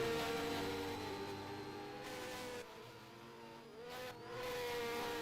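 Porsche race car in a GT feature race, engine droning through a hairpin with shifting pitch as it drifts, fairly faint and steady with brief dips, no talk.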